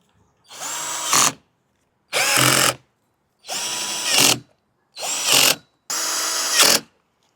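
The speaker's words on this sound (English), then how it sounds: "go through and tighten everything down with my drill" Five loud bursts of a power drill tightening bolts on a solar light pole, each lasting about a second with short pauses between, rising slightly in pitch as it tightens, close by.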